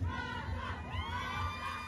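At a fair queen election, a crowd shouts and cheers in a lively, continuous roar of many voices, moderately distant and sustained throughout.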